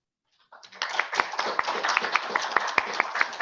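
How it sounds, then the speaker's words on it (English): Audience applauding at the close of an evening meeting after a talk on a Middle Jurassic fossil site in Wiltshire, England; clapping starts sparse and quickly swells into steady, dense applause from a roomful of people, fairly close. "big round of applause, please"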